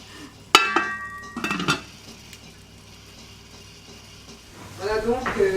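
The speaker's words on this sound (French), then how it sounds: "je regarde le cabri, le massalé de cabri. que je touille un petit peu" Spoon stirring goat massalé in a cooking pot on a low simmer, with a few sharp metallic clinks and scrapes near the start and more clattering at the end, quiet bubbling between.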